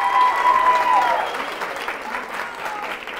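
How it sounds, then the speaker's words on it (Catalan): Applause for a group of schoolchildren at a local TV quiz show, a dense sustained patter that is loudest at the start and eases off slightly, with a faint tone and voices underneath. "Un aplaudiment per ells, sisplau."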